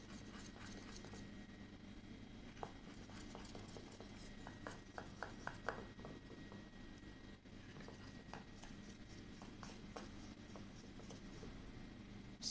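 Thick, dense three-ingredient sugar cookie dough stirred in a bowl gives soft, irregular scraping and thudding strokes that cluster in the middle, quiet and close, with no talk.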